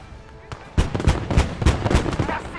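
A flak cannon firing during a World War II Fall of France video game battle: rapid, evenly spaced booming shots, about seven in quick succession, loud and close, starting after a quieter opening.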